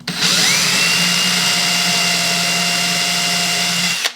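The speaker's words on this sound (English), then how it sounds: "just drill until your tape hits." A power drill whines up to speed and runs steadily at a high pitch for several seconds, close by, then spins down.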